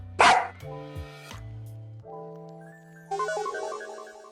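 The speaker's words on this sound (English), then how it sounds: "Oh, hi, doggy. What the dog doing?" A dog barks in a few short sharp yaps near the start, followed by layered synthetic musical tones and chimes that carry on to the end, with no talking.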